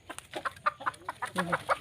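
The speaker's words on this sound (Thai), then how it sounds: "อันนี้จะเป็นไก่ ไก่บ้านเราเลี้ยงไว้นะคะ" Several backyard domestic chickens on a farm cluck close by in short, irregular bursts, with soft rustling between the calls.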